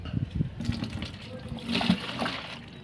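Water splashes and trickles as it is poured into a small garden pot while preparing liquid fertilizer from soaked cow dung cakes. The pouring is soft and close, with a faint voice underneath.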